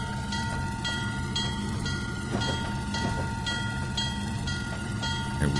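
A pair of diesel 44-ton locomotives rolls through a platform on the C&O Hinton route in the Trainz 2019 simulator, giving a steady, fairly loud rumbling drone with faint rhythmic clatter throughout and no talking.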